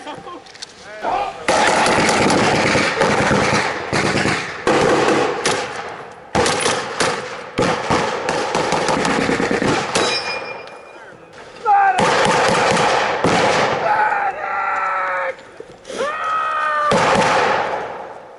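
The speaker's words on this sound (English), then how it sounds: "Who wants to put a grenade through that window?" Grenade blast and gunfire during a WWII re-enactment of Operation Cobra, with loud repeated bursts and shots crowding most of the stretch, broken by short lulls, while people shout and talk in between.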